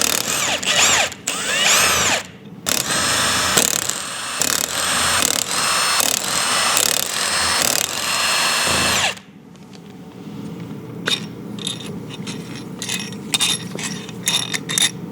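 A power drill with a socket bit spins off bolts from the case of a blown Can-Am X3 turbo engine, loud repeated whirring bursts with brief pauses, then quieter ratcheting and metallic clicks close by.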